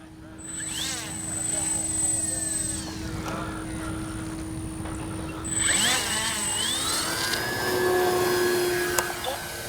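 A Flightline P-38 twin-engine electric RC model warbird takes off, right to left, its motors whining and rising in pitch as it speeds along and climbs away, with a steady background hum and talking from a person nearby.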